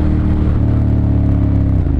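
A 2014 Ducati Monster 1200S motorcycle engine runs loud and close, a steady, dense throbbing rumble that holds without a break for the whole stretch, with no voices.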